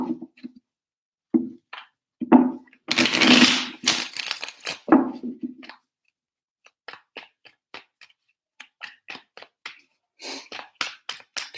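Cards shuffled up close in several bursts: a longer riffle, then a run of crisp rapid clicks and flicks, separated by brief silences.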